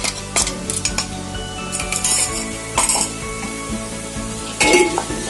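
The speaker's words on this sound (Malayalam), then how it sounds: "ഇതൊന്ന് ചെറുതായിട്ടൊന്ന് വഴണ്ടി വരണവരെ ഇളക്കി കൊടുക്കാം" Mixer-crushed ginger and garlic sautéing with onion and chilli in a pan, stirred with a metal spoon: a constant sizzle broken by clinks and scrapes against the pan, close up with no voices.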